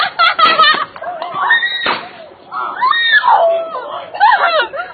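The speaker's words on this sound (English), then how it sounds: "you can hear her, she screams and" A woman screams at a protest where police used force, with high wavering shrieks and cries close by and loud, mixed with other shouting voices.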